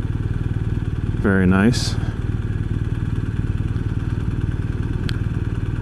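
A BMW R 1250 RS motorcycle rides along in low gear, its steady engine drone continuous throughout, with a brief spoken remark near the start over the running motor.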